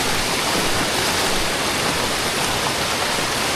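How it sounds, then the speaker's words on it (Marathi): Forest stream swollen after heavy rain in the Bhorgiri to Bhimashankar jungle, a loud continuous rush of water filling the whole clip, steady and close with no voices. "पाण्याची पातळी आता एवढी वाढली ना, लय जोरात पाऊस पडला आणि लय जोरात पाणी आलं इथून"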